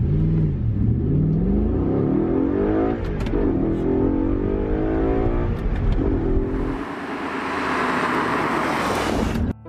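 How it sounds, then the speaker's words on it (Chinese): An Audi R8 sports car, bought at auction more than ten years old, accelerates hard on a test drive, its engine revving up through rising sweeps and shifting, loud and close, then ending in a broad rush of road noise. "现在就是要开着车子出去跑一跑，重新感受一下车辆在行驶过程中的一些体验。"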